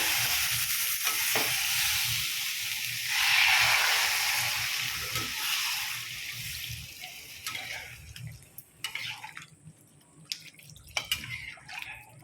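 Water is poured into a simmering curry of potato and elephant foot yam, a hissing sizzle and bubbling in the pan followed by quieter stirring clicks and drips as the liquid settles.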